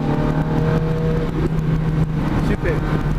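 A Ferrari engine drones loud and close while accelerating on a track, a steady motor rumble holding through the whole stretch with a slight shift in pitch.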